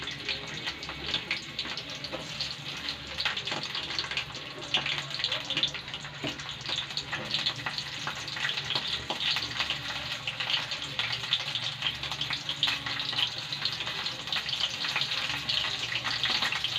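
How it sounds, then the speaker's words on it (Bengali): Cauliflower florets fry steadily in a wok, giving a continuous hiss and sizzle that holds at an even level throughout with faint clinks mixed in. "প্রথমে কড়াইটার মধ্যে আমি একটু ফুলকপিগুলো ভেজে নিচ্ছি।"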